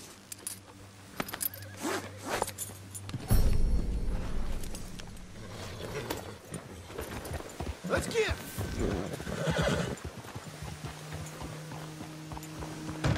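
A Buttermilk Buckskin Kentucky Saddler horse in a video game, with irregular clip-clopping hooves, tack jingles and a neigh mixed under someone talking over the game sound.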